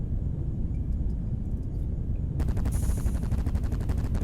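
Spacecraft guns in the sci-fi flight game Directive: Intercept open up partway through, a fast, steady rattle of rapid shots over a constant engine roar that fills the first half alone.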